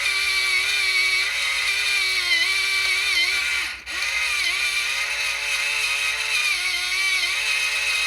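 A loud electric grinder grinding dried coriander whirs steadily at close range, its pitch wavering slightly, with a brief dip midway before it resumes.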